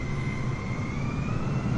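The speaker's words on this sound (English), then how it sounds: "this plane is coming my way." A steady, loud engine drone of an approaching airplane in Microsoft Flight Simulator, played in VR, holding evenly for under two seconds with no talk.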